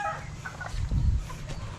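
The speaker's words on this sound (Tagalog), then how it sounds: "tapos din tayo sa paglilipat ng mga manok natin" Chickens clucking softly inside a backyard coop after being moved to a larger pen, with short scattered clucks and rustling close by and no talking.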